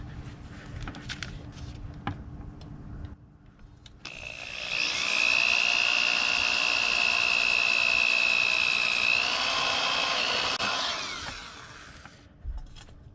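A hand power drill whines into metal on a model locomotive, a high steady grinding pitch that rises, holds for several seconds, then winds down, with quiet handling noises before and after.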